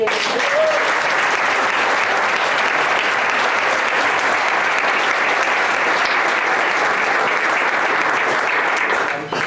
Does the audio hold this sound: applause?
yes